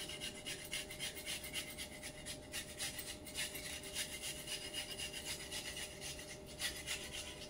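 Garlic being grated by hand over a homemade pizza, a steady soft rasping scrape repeating in quick strokes at close range, fairly quiet with no talking.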